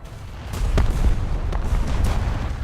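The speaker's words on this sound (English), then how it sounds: "Oh, that's a torpedo. A Scharnhorst torpedo of all things." A Scharnhorst torpedo strikes a ship in a naval combat game, setting off a loud, deep explosion: a rumbling low boom with a few sharp bursts rising out of the sustained roar, and no talking.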